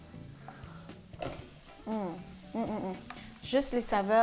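Onion, garlic and spices sizzling in hot oil, a steady hiss rising sharply after the first second and continuing close under a woman's speech.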